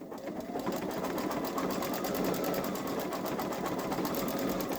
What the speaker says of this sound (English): I'll let that stitch out.